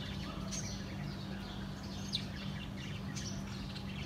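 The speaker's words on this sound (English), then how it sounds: "There's birds." Outdoor birds chirp in scattered high tweets over a steady low hum and broadband background noise, moderately distant and fairly faint, with no talking.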